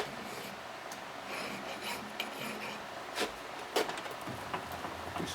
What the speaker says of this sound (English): Do some deburring right now.